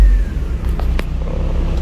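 Proton Gen 2 automatic car idling, a steady low engine rumble close up with a few faint clicks over it and no talk.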